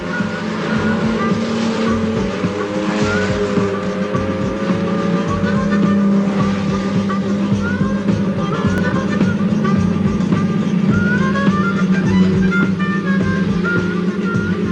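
Race car at full throttle on the final lap, a loud sustained engine roar with rising and shifting tones, close and continuous for the whole stretch, no talk over it.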